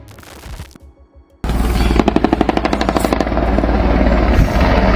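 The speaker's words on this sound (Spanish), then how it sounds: "2 helicópteros artillados Black Hawk de la Secretaría de Seguridad Pública." Armed Black Hawk helicopters of the Public Security Secretariat fire from the air during an operation against cartel gunmen, rapid bursts of machine-gun fire rattling over a loud, steady rotor roar, heavy and close, following a brief quieter lull.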